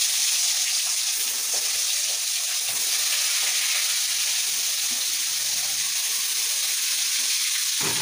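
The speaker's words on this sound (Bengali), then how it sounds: "আমি কড়াইতে তেল দিয়েছি, মাছ ভাজছি" Fish frying in oil in a wok during Bengali home cooking gives a steady, dense sizzle with a bright crackling hiss. It runs continuously and fairly loud throughout, with no talk.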